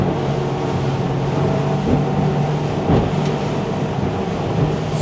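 A Sterk 31 motorboat cruises into short, sharp chop off Mallorca, its engine a loud, steady roar mixed with wind rush and water noise and a couple of thumps from hull impacts.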